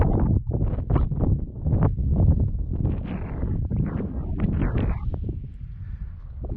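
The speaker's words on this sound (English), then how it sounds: "it is a beautiful but windy lake" Strong gusts of wind at a mountain lake on the Uinta Highline Trail, buffeting the microphone in loud rumbling bursts that ease off toward the end.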